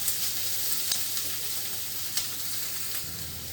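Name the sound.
corned meat and chicken frying in a pan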